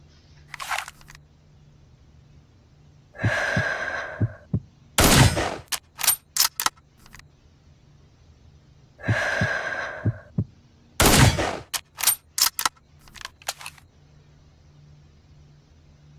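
Two sharp, loud rifle shots, from an M24 or M14 sniper rifle fired at a 150-meter target, ring out several seconds apart. Each shot comes after handling noise and is followed by quick metallic clicks.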